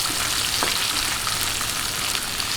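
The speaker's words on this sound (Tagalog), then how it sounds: "magigisa po tayo ng bawang. Ayan, medyo lang po i-light brown natin." Garlic followed by onion sautéing in a hot pan for fried milkfish adobo, a steady close hiss and crackle of frying oil with no talk over it.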